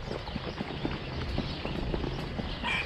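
Horse hooves clip-clop steadily in a continuous walking rhythm during a horseback ride along countryside trails, close and moderately loud against a faint outdoor background.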